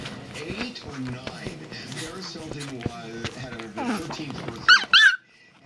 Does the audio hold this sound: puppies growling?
yes